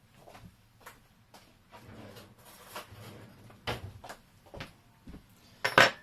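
Metal cutlery clinks and rattles in a kitchen as a fork is picked out, scattered light clatters ending in a sharper, louder jangle.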